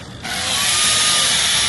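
Chainsaws carving ice at the Cripple Creek Ice Festival in Colorado snap on loudly after a short lull, then hold a harsh, continuous high grinding whine without any talk.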